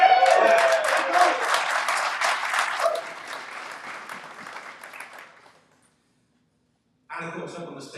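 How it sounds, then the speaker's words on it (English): The Backline Collective supporters group cheers and applauds at a club event: loud sustained clapping and shouting that fades away to silence, then a voice starts talking over a fresh swell of crowd noise. "And I know you're going to cheer."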